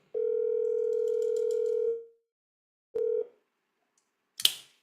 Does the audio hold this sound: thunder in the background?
no